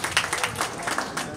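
Applause and clapping from a crowd at a Kikuyu gathering, coming in short uneven bursts over a little more than a second, fairly close and moderately loud.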